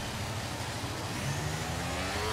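F1 race cars in the F1 23 video game accelerating off the start at the United States Grand Prix, a dense, continuous engine roar with rising pitch sweeps as the cars pull away.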